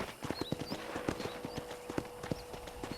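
Horse hooves clip-clop in a steady, close rhythm as a horse is led around a ranch in the video game Red Dead Redemption, with faint outdoor ambience and occasional bird chirps behind.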